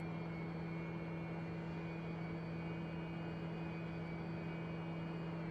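A single-engine propeller aircraft in X-Plane climbs after takeoff, with a steady, even engine drone and propeller hum that holds unchanged and continuous from start to finish.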